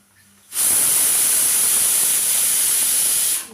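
A pressure cooker whistle bursts into a loud, steady hiss of escaping steam, sustained for about three seconds in a home kitchen while parotta and salna are being made.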